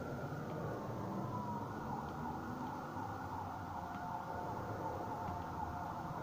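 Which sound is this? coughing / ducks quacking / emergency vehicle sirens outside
emergency vehicle sirens outside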